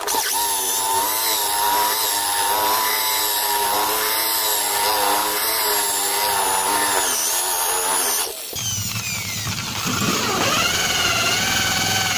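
A power drill bores holes in an acrylic sheet, a loud, close, continuous high-pitched whine that changes pitch and texture abruptly near the end as the bit cuts through, with no talking.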